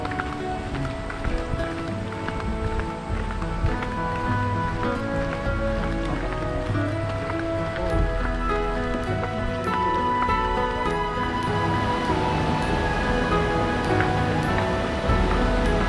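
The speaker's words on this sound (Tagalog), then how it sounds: "We're here guys sa Bao-Bao Falls" Steady, loud broadband rush of Bao-Bao Falls pours on without pause, a dense wash of falling water with no voices heard above it.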